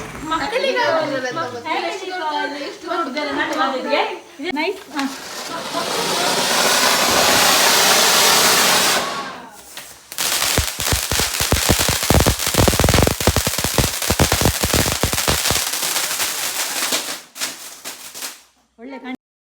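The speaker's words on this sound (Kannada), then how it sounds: "ಪಟಾಕಿಯನ್ನು ಬಿಡ್ತಾ ಇದ್ದೇವೆ" Diwali firecrackers are set off in a festive gathering: a long fizzing hiss swells and fades, then dense rapid crackling bursts rattle on for several seconds. Voices talk and sing beforehand.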